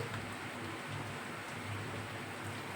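Steady rain falls outside a home kitchen, a faint, even hiss of rainfall without speech, continuous throughout.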